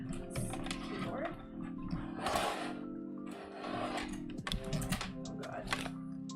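A computer keyboard is shifted and handled on a cluttered desk, with its connected cables shifting too; close clacks, knocks and rustles come in bursts while a person talks.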